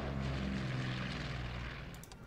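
Propeller aircraft droning steadily in the strategy game Order of Battle: Kriegsmarine, a continuous low engine hum with buzzing harmonics that fades slightly toward the end, with no voices.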